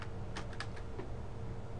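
Quiet, quick keystrokes on a computer keyboard as a name is typed into a spreadsheet's name box, a short burst of soft clicks alone.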